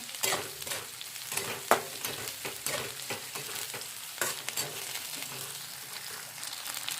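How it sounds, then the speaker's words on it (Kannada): Green chillies frying in oil for a home-cooked dish, a steady close sizzle broken by sharp scrapes and taps of a spatula stirring the pan, with no talking. "ನನ್ನ ಹಸಿ ಮೆಣಸಿನ್ಕಾಯಿ ಇದಕ್ಕೆ ಚೆಂದಾಗಿ ಇವಾಗ ಫ್ರೈ ಮಾಡ್ಕೊತೀನಿ ರೀ ನಾನು ಎಣ್ಣೆಯಾಗ"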